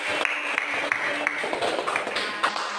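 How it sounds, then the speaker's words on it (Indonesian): A classroom of students claps for a classmate named Siti, scattered uneven hand claps in a small room with some voices and light tapping mixed in. "beri tepuk tangan untuk Siti"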